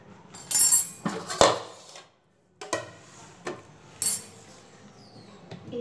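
Nimki dough being rolled out with a rolling pin on a board, giving a few sharp knocks and clattering taps spread unevenly, with a brief silent pause partway through.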